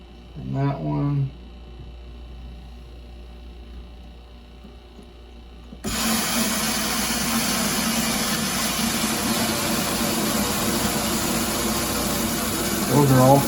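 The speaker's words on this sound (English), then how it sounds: "That's what you're hearing is the filter housing is filling up." A water filter housing fills under pressure, a steady rushing hiss of water flowing in that starts abruptly and continues loudly, with a faint hum beforehand and a person speaking briefly at the start.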